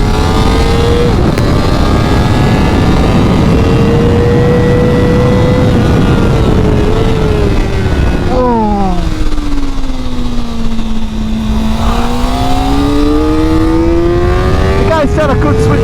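Kawasaki ZX-4RR 400cc sport bike screaming at high revs down a race track straight at around 200 km/h, a loud sustained high-pitched engine wail with rising and falling pitch as gears change, with wind roar throughout.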